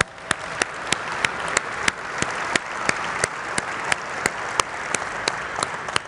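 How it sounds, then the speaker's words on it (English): An audience at a tech conference applauds in a steady wash of clapping lasting several seconds, with a few sharp, louder individual claps standing out near the microphone. "All right, I think Tim and Kelsey deserve another round of applause."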